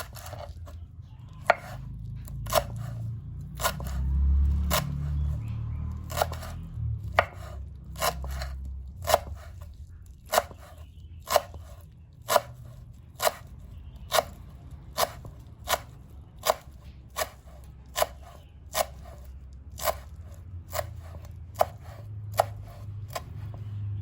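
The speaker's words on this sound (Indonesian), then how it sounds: "Lalu ini aku potong-potong daun seledrinya ya teman-teman," A knife chops celery leaves on a cutting board in a steady series of sharp, evenly spaced taps, close and clear over a low background hum.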